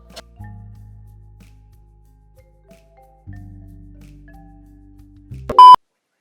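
A low appliance hum switches on and off, then one short, loud electronic beep sounds near the end.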